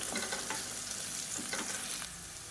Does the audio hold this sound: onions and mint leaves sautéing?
yes